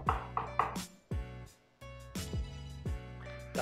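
Garlic cloves being crushed and finely chopped with a knife on a board, a run of sharp close knocks and thuds in uneven bursts with short pauses between.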